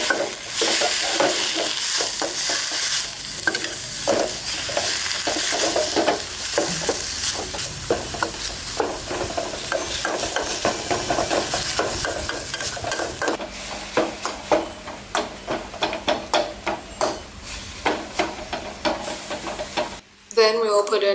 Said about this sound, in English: Next, we'll put in our ground pork. Make sure to coat it with the namprik evenly.